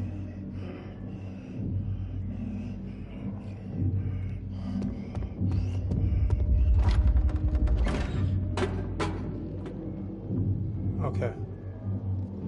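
A door slowly creaks shut in Little Nightmares, a drawn-out mechanical groan with low rumbling that swells and fades over several seconds, ending in a few sharp clicks and knocks.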